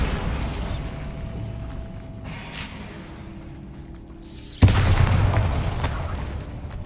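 Bombarda spell in a Harry Potter video game, with a sharp blast near the middle followed by a loud, sustained rumbling burst. Quieter magical whooshes and hums come before it, with no talking.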